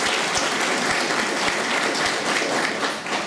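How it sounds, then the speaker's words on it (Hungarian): An audience at an international teaching conference claps together, a dense, loud, steady round of applause that carries on throughout with no voices over it. "most jár neki a tapsa"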